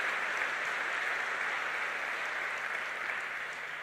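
A church congregation at a sermon bursts into steady, continuous applause, a soft but full wash of many hands clapping at a distance, with no voices over it.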